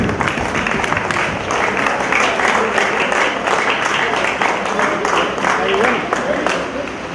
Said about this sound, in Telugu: గట్టిగా చప్పట్లు కొట్టామండి